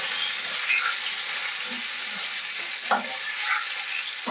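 Cauliflower florets frying in hot oil with cumin and a bay leaf for a tangra fish curry give a steady close sizzle, with a few soft stirring clinks and scrapes.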